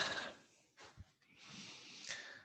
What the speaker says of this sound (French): On inspire, on expire.